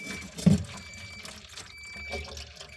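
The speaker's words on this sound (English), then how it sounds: "Look how it just goes down the drain." Water from a Samsung RF260BEAESR refrigerator running down the drain tube, a soft trickling and gurgling flow with one brief louder splash near the start, fairly close and steady.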